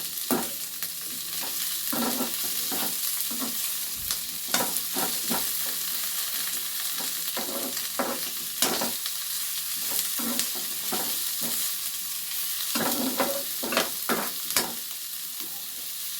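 Egg chops frying in oil over a low flame, a soft continuous sizzle with frequent spatula taps and scrapes against the pan in loose clusters, close and fairly quiet, with no talking.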